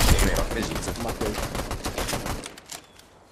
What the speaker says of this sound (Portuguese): Eu acertei 4 tiros nele em seguida.